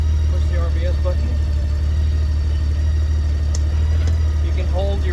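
A Honda Gold Wing touring motorcycle idles in neutral with a constant deep low hum, while a person talks over it intermittently.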